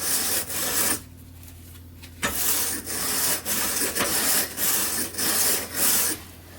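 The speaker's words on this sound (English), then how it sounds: "rather than scrubbing each individual stave, we'll just run it across the brush like this" Wooden whiskey barrel staves pushed across a wire brush mounted in a vise, giving repeated loud rasping scrubs in a steady rhythm of about eight strokes, each a harsh bristly scrape, with no talking.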